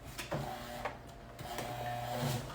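A home sewing machine stitching fabric for an apron, a steady close mechanical whir with short pauses and restarts as the fabric is pivoted, no talking.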